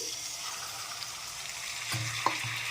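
Cashew paste thinned with water is stirred into vegetarian aloo dum in a pan, giving a steady simmering sizzle with a couple of brief spatula scrapes and a light tap near the end, and no talk.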